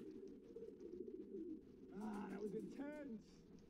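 Pigeons coo in soft, low, repeated throaty calls close by, with a couple of louder warbling bursts near the end, while people talk quietly in the background.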